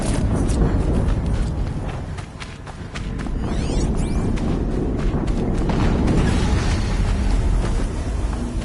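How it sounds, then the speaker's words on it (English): A big explosion in the video game Horizon Zero Dawn, a loud, dense roar that dips briefly and surges back into sustained rumbling debris, with no speech over it. "Another explosion."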